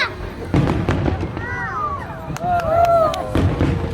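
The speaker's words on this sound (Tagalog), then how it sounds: "Wow, fireworks!" A pyromusical fireworks finale bangs and crackles in scattered bursts at a distance, while people talk and exclaim close by and a whistling streak rises and falls.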